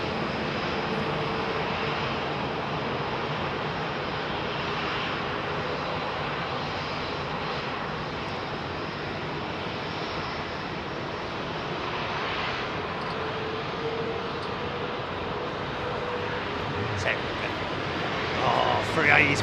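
Airbus A380 airliner taxiing into position at Heathrow runway 27R: a long, steady engine drone at moderate distance that swells slightly toward the end, with a voice talking over it.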